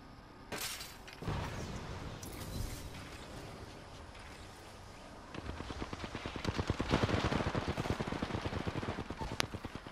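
Game gunfire in Apex Legends: scattered sharp shots early, then a dense rapid burst of automatic fire building toward the end, loud and close with crackling impacts.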